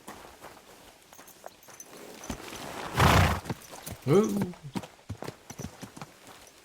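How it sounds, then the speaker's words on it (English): Video game horse hooves clip-clop in a rapid, irregular patter, with a brief burst of noise and a short exclamation from a voice partway through. "Nope, that's a horse."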